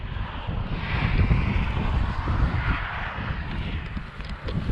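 Constant wind rush buffets a helmet camera on a Honda CRF450R dirt bike ride in cold weather, a steady loud roar of air with low rumble underneath and no talk.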